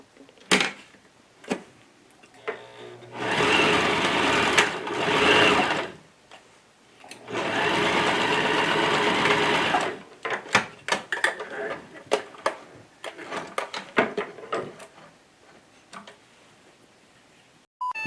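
A sewing machine stitching the folded edges of a fabric placemat, with two sustained whirring runs of a few seconds each, followed by scattered close clicks and taps as the fabric is handled.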